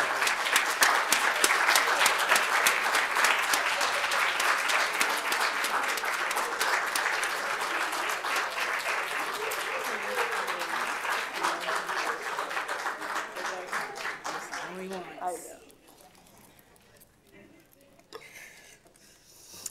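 Sustained audience applause at an awards ceremony in a public library, dense clapping with crowd murmur for about fifteen seconds before dying away to a quieter room with scattered sounds.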